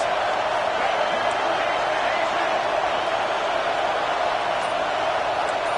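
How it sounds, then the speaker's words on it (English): A loud, steady roar from a stadium crowd fills a college football game on fourth down with Florida on the field, a dense wash of noise with no breaks. "this crowd is making it miserable on this offense."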